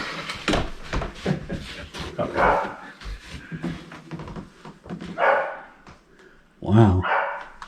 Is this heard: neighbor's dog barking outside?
yes